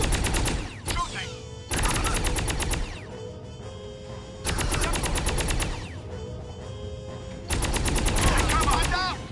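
Automatic weapon fire in the PC shooter Contract J.A.C.K., loud rapid bursts in several long volleys separated by brief gaps of game ambience.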